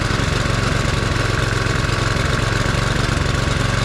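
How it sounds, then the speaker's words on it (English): Small engine idling steadily at a slightly low idle with Seafoam treatment running through it, a continuous even rumble with a fast regular pulse, close and fairly loud, no talking. "I'm going to have to adjust the idle though"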